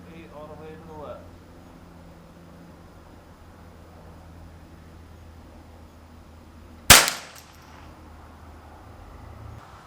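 A single sharp rifle sighter shot fired at a target from the number 8 position, air rifle or .22 rimfire, loud and abrupt against faint background hum, with brief talk near the start.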